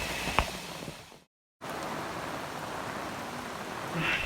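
Monsoon rain falls on garden plants in a steady, even hiss that briefly cuts out before resuming.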